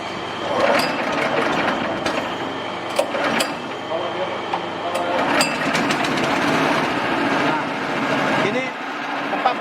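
A small engine powering a virgin coconut oil (VCO) processing machine runs steadily with a loud, rattling mechanical drone and intermittent clanks, while voices are faintly heard in the background.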